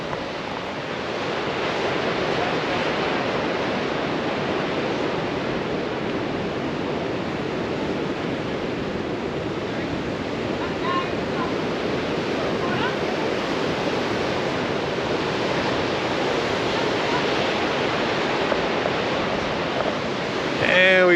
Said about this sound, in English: And we got the amazing ocean crashing behind us.